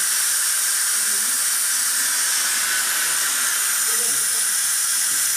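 A strong, steady hiss of an air stream in a physics demonstration on the principles of aircraft flight, loud and unbroken from start to finish.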